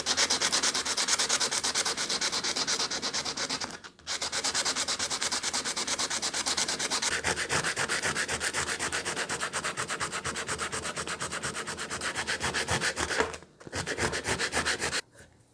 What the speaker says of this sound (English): We'll give it a little sand down and make sure that we've got all of the little nooks and crannies.